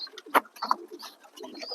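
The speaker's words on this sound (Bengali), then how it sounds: "এখানে যতগুলো পায়রা আছে যতগুলো পায়রা খাবার দিলাম সব পায়রাগুলো ব্রিডিংয়ে আছে" Breeding pigeons coo softly in short, overlapping murmurs, close by, with a few brief chirps scattered among the calls.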